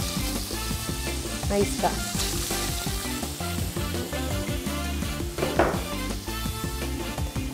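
Chicken pieces sizzle and crackle in a little oil in a pan, a busy continuous fry with occasional stirring clatter, and a voice briefly speaks over it.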